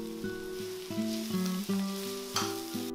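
Garlic, ginger and mushrooms frying over high heat: a loud, steady sizzle under a strong tonal hum that shifts in steps, probably a range hood or music, close and without speech.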